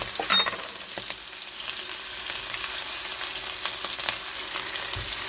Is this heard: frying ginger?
yes